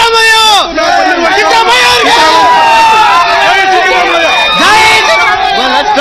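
Dense crowd of Congress party supporters gathered at a live news scene, a loud, continuous babble of many voices and shouts close by with no single voice standing out.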